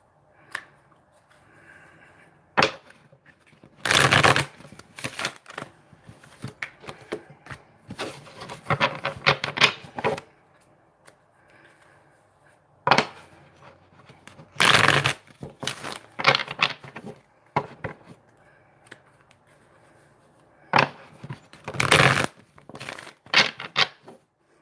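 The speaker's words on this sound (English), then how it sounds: "I've got about 50 cards spread out here, so let me get them shuffled" About 50 tarot cards shuffled by hand, several bursts of rapid riffling and card slaps close by, separated by quieter stretches of soft handling.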